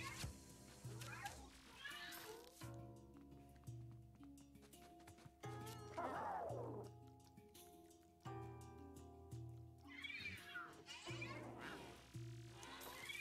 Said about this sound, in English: There's the Polter Kitty.